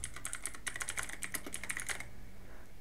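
Rapid typing on a computer keyboard while searching for Microsoft Store in a Windows settings fix, a close, steady run of key clicks for about two seconds before stopping.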